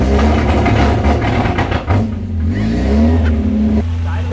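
A car engine running on moonshine fuel idles loudly and close, a rough uneven rumble that dips and recovers, with voices talking over it.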